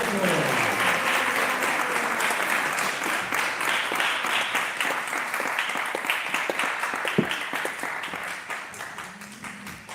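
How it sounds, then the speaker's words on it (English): An audience at a religious commemoration gathering gives a full round of applause. The clapping is continuous and fairly loud throughout, thinning slightly toward the end. "Let's give him another round of applause."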